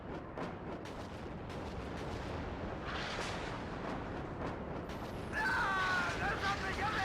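Artillery salvo in the WARNO video game, with howitzers, mortars and MLRS firing on buildings: a rapid string of distant booms and blasts rumbling together, then a louder burst of explosions and debris toward the end.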